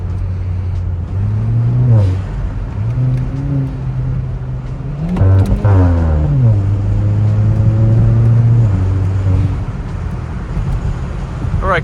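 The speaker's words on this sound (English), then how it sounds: "as you can hear, we are in sport mode and zero artificial sound" A Kia Forte GT engine in sport mode, with no artificial sound, revs repeatedly up and down, loud and close, giving a deep exhaust drone with several rising sweeps and some wind rush and faint voices underneath.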